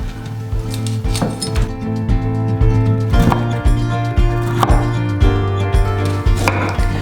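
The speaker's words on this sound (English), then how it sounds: "I'm just going to chop these into little florets, and you can chop them as small as you like" A knife cuts broccoli into small florets on a board, making a regular series of crisp, close chops over steady background music.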